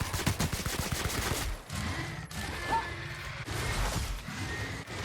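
Weapon fire in the Outer Worlds video game, with a rapid train of shots at the start followed by scattered cracks and impacts, fairly quiet in the mix, while a voice mutters briefly.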